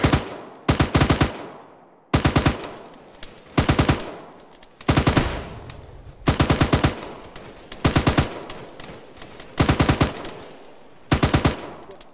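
Loud, close bursts of automatic machine-gun fire, roughly eight short volleys of rapid shots spaced a second or two apart, with brief quiet gaps between them.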